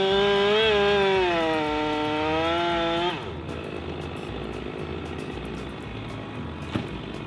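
A chainsaw roars loudly up close while cutting down a backyard tree, its pitch wavering for about three seconds before it cuts off abruptly, leaving quieter outdoor background noise and a single sharp knock near the end.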